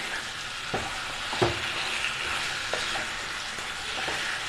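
Chicken fries over high flame for a pepper fry, giving a continuous close sizzle broken by a few knocks and scrapes of a spoon against the pan.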